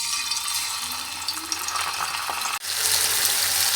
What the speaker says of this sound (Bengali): এখন এই তেলেই আবার পুঁটি মাছগুলো ভেজে নেব।